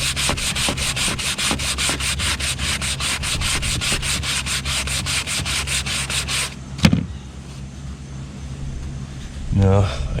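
Teak wood on a wooden Tahiti gaff cutter being sanded, a loud, fast rhythmic rasping of regular strokes for about six seconds, then stopping, followed by a thump and quieter background noise.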